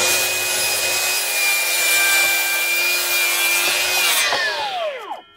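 Four wooden slats about 1.6 m long cut together with a saw, a loud continuous rasping of the blade through wood for about four seconds, fading as the cut finishes and a brief ringing follows.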